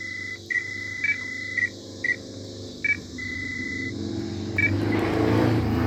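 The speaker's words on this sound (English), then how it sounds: "does that motorcycle guy always gotta be like so revving that motorcycle engine of his so loud?" A motorcycle engine in the Syphon Filter 3 video game drones low and steady beneath a series of short, evenly repeated electronic beeps, then swells louder and rougher near the end as the engine revs.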